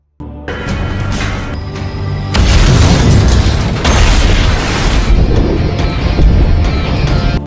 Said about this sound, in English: when he walks on a bridge, a bomb explodes